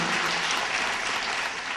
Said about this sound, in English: I just want to give a round of applause to teachers right now